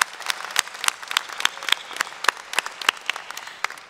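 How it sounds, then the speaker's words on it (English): A graduating class at a university commencement ceremony claps steadily, with dense, uneven applause that holds for the whole stretch and no voices over it. "give yourselves a round of applause today"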